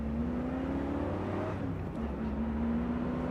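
1983 Ford Mustang Foxbody pony car accelerating, a steady engine drone rising in pitch, dipping briefly at a gear change, then pulling again, heard from inside the car without speech.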